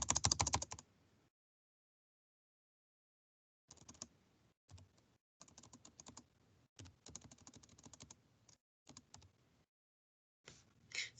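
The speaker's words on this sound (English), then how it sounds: "I'm going to type mine out" Typing on a computer keyboard in bursts of quick clicking keystrokes, a short flurry at the start, then a pause, then longer runs of close, crisp taps with brief gaps, heard alone without talk.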